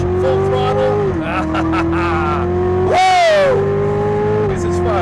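A 2015 Chevrolet Corvette Z06 accelerates hard at full throttle on a race track. The engine note holds steady at first, then climbs sharply in pitch through a loud rising wail before settling back, close and continuous throughout.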